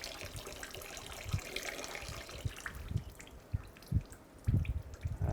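Coolant trickles and drips from a detached radiator hose on a 2000-2013 GMC Yukon, a steady low splashing stream with irregular heavier plops, close by and alone.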